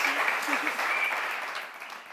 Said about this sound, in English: and a big applause for Franzi Weser and Ali Malachi.